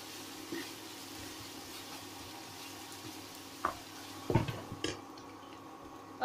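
Chopped onions, two of them, fry in a pan with a soft continuous sizzle, broken by a few clinks and scrapes of a spoon stirring against the pan.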